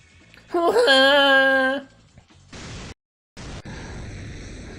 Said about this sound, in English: Please tell me that's not Kushi's third howl!